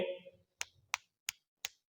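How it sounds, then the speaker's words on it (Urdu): Hand clapping demonstrated by someone speaking Urdu during a religious talk: four sharp, evenly spaced claps, close and loud, following a brief burst of his voice. "صفق کہتے تاڑی کو، ٹھیک ہے، ہاتھ پہ ہاتھ مارنا، تالی لینا"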